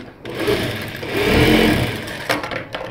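A sewing machine stitches a strip of rough cloth, its close motor whirring up, running steadily for about two seconds, then slowing with a few mechanical clacks at the end.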